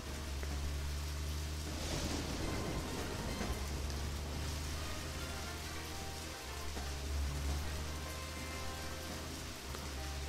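Steady rain falls in the Deadly Premonition: Director's Cut video game, a constant hiss of drops over a low rumbling hum, without any voices.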